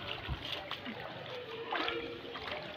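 Small freshly caught puti fish being washed in water from a little canal, with soft splashes and sloshing close by and a person talking over it.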